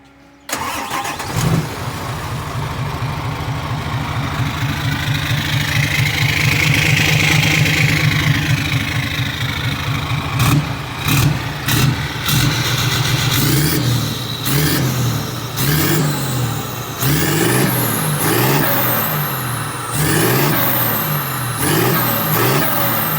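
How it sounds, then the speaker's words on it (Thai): A dump truck's newly installed engine cranks and catches, settles into a loud, steady rumbling idle, then gives a series of sharp revs that climb and fall repeatedly, close up with no talking. "มาฟังเสียงเครื่องกันนะครับผม"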